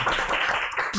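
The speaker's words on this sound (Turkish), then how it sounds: "Ece Naz'ın oraya alkışı" Brief clapping and applause for a participant, a short burst of hand claps with voices mixed in over it.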